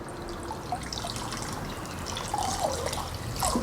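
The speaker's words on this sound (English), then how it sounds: "Ooh, that's a big leak. Oh, it leaked." Water leaks through a container coated in Flex Seal, trickling and dripping with small splashes over a steady wet hiss.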